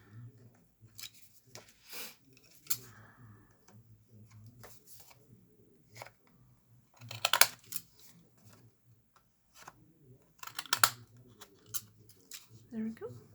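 Decorative-edge scissors snip through paper for a junk journal in a run of faint, crisp cuts, some in quick clusters, with soft handling rustles between.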